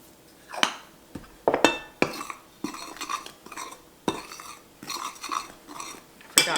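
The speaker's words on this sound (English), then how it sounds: "I'm going to put the salt in and mix it up a little bit" Salt being stirred into sourdough in a bowl, with a series of close scraping and clinking strokes of a utensil against the bowl, irregular and moderately loud, no talking.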